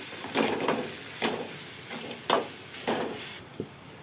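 Spicy chickpea masala being stirred in a pan with coriander powder and garam masala, a soft sizzle under repeated scraping strokes at an uneven rhythm, fairly quiet and close with no talking.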